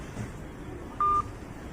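A single short telephone keypad tone sounds once while a number is dialled, a clean, close beep standing out briefly against quiet room noise.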